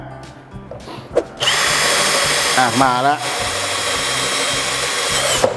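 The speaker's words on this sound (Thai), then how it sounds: "ผมจะทำการเจาะไม้นะ" A Pumpkin cordless drill bores into wood: after a short spoken remark and a few clicks, the motor spins up into a loud, steady whine that wavers briefly as the bit bites, then runs on evenly.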